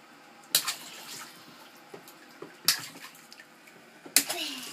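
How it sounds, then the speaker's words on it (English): A baby splashes in bathwater in three separate bursts, each a sharp near slap and spray that trails off in dripping, with quiet sloshing and faint voices in the pauses. "Oh, splashing is way more fun."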